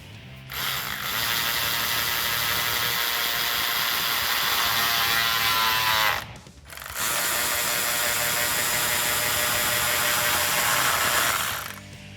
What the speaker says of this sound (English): Get the band clamp tightened at the back of the air filter.